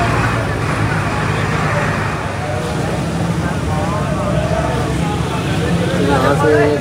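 Steady road traffic rumble heard from inside a bus waiting to leave for Lahore, a constant loud low drone with engine hum throughout.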